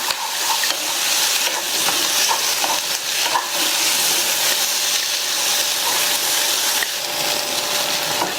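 Eggplant pachadi with onions sautéing in a pan over a medium flame gives a continuous, even sizzle, with faint scraping of stirring running throughout.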